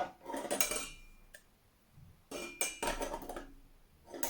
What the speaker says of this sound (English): I can put the simmer ring in